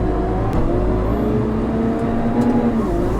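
A shovel loader's diesel engine works on a maize silage pit, a steady loud rumbling drone with slight shifts in pitch as it labours.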